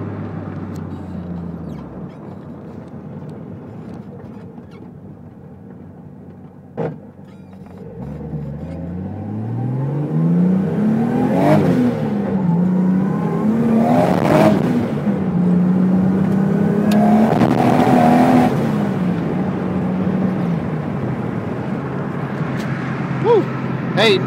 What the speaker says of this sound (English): Hey, notice that blow-off valve sound is different.